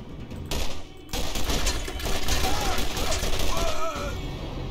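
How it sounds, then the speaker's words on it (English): Gunfire aimed at the player during a Borderlands firefight, a dense, sustained burst of shots and impacts running nearly throughout, loud and busy with game noise layered over it. "Somebody's shooting at us."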